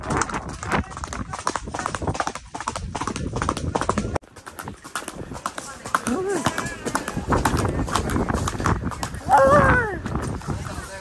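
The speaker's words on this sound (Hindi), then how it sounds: "ये घोड़ा मिला है भाई हमको" A horse ridden at speed on a trail in Mahabaleshwar gives steady, rapid clip-clop hoofbeats close by throughout, under almost continuous talking from riders.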